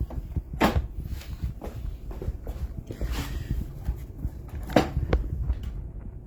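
Someone unlocks the lock on a Superfit Costway 2-in-1 treadmill, a run of close knocks, clicks and clunks of plastic and metal parts over a few seconds, with no talk.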